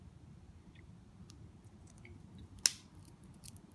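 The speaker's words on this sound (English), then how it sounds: "and of course you got your scissors." Small keychain Swiss Army knife scissors give a single crisp snip up close, with faint clicks around it against a low, quiet room hum.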